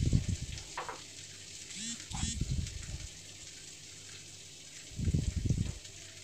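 Chopped garlic and ginger frying lightly in hot oil in a pan, with a constant soft sizzle and a few louder bursts of stirring and scraping.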